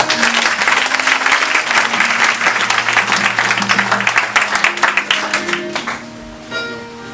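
Church congregation bursts into dense, loud applause that holds steady for several seconds, then thins out and fades near the end.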